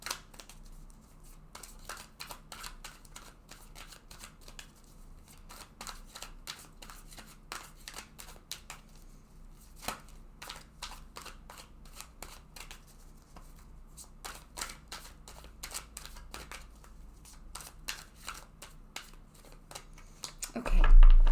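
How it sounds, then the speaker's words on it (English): A deck of tarot cards is shuffled over and over in a steady run of crisp riffling flicks and papery slaps, quiet and close, ending in a louder thump as the deck is set down. "So I'm just going to shuffle the deck several times now."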